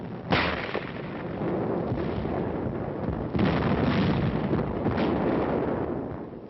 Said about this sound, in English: and tremendous artillery barrages